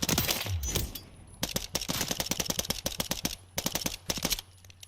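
Gilded Pistols fired rapidly in Modern Warfare III: several quick bursts of sharp, cracking shots in close succession, separated by short pauses, loud and close.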